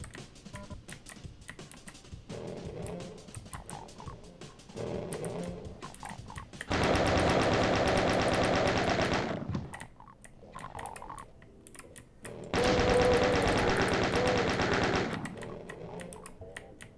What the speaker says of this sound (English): Shooting at nothing.